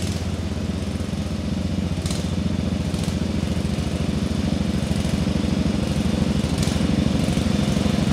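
A tractor engine runs steadily at close range with a rough, chugging mid-pitched drone while its tires spin on the ground, the sound holding loud and even throughout, with no voices.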